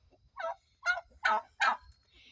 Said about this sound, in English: And there's the turkeys. Some more turkeys.